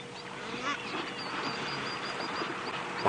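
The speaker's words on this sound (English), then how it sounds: "Not that they are the quietest animals themselves, they're still making quite a bit of noise as well" Egyptian geese honking at a dam at sunset, a string of repeated nasal calls at moderate distance over a busy, noisy background of other birds.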